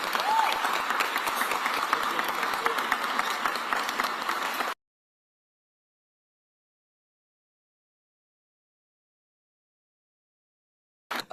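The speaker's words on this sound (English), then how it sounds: "Give Dr. Carrera a round of applause" An audience applauds Dr. Carrera at a Philadelphia mayoral press event on the budget, a dense, steady crowd clapping that fills the first few seconds, then stops abruptly into silence before a brief burst at the end.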